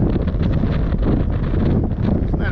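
Steady roar of wind buffeting a microphone at a Northern Nevada overlanding camp, loud and constant throughout with rumbling low-end gusts.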